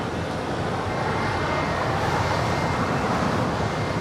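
Heavy airliner taking off from runway 25 right at Los Angeles International Airport, a steady broadband jet roar that holds constant across the whole stretch at moderate distance, with no voices.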